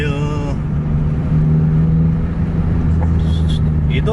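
A car passes on a road with a loud, steady engine drone and rumble that holds across the whole stretch, and a brief voice-like tone sounds at the very start.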